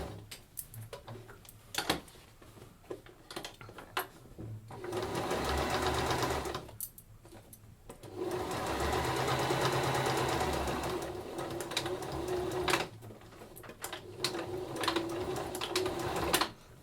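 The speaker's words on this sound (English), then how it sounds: "as you sew it to the bag front, it closes the gap up" A sewing machine stitches a drawstring bag in several bursts of rapid, rhythmic whirring, separated by short pauses and small clicks, heard up close with no speech.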